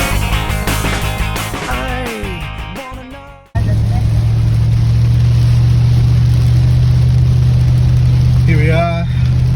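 A car cruises along the road toward Karijini in Western Australia, steady engine and road rumble carrying on at a constant level. A voice and other sounds come before it, and a faint voice rises near the end.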